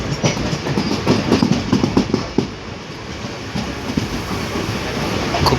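A train rolls toward the Kechki rail bridge and station with a continuous loud rumble and a steady clickety-clack of wheels over rail joints throughout.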